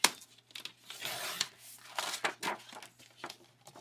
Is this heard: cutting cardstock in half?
yes